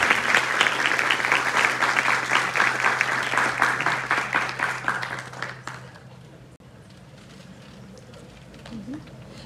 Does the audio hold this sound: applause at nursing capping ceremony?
yes